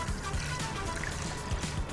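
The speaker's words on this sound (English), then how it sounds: "And now some fresh water." Fresh water pours into a stockpot holding softened onion and ginger for Vietnamese pho, a steady close trickling and splashing stream that runs alone for about two seconds.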